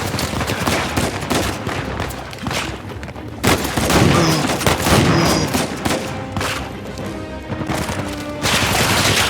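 Heavy gunfire in the video game Uncharted 4, including shotgun blasts, comes as dense, rapid bursts and booming shots that rise and fall over busy game effects, with no talking.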